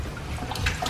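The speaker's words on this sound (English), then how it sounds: "we chuck the dirty filter in" A dirty off-road motorcycle air filter goes into a tub of soapy biodegradable cleaning water, making a short close splash and soft watery sloshing with light trickles.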